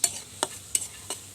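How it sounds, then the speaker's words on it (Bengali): Chopped onion frying in oil is stirred with four quick, sharp scrapes of a utensil over a soft sizzle. "আগে পেঁয়াজটা ভাজা হচ্ছে"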